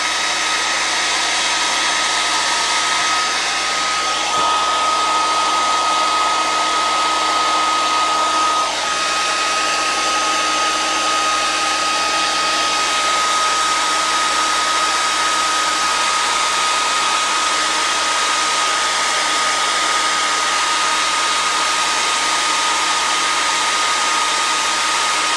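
A heat gun blows hot air in a steady, loud, unbroken roar with a faint whine riding on top, running continuously while foam puppet hands and arms are shaped, with no voices.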